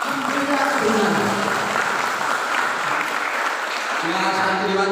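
Audience applause at a book discussion, a steady wash of clapping from a crowd that runs throughout, loud and sustained, with voices mixed in underneath.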